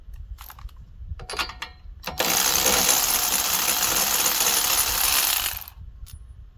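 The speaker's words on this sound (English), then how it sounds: "Now, let's remove both spark plugs." Spark plugs being removed with a ratchet from the engine of a Bobcat walk-behind mower, close up: a few sharp clicks and metallic taps, then a sustained rasping ratchet whir lasting about three seconds before settling back to quiet handling sounds.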